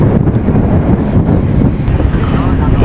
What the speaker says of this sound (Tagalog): Mahangin lang ngayon, mahangin.